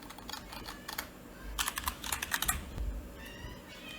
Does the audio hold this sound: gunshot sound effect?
no